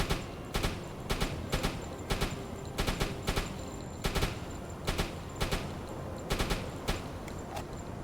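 Small arms gunfire in a naval combat video game: short bursts of rapid shots repeat about every second or two, each a sharp crackling volley, steady and fairly loud with no voices.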